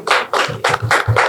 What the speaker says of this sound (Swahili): Jumla tupige makofi kwa pamoja.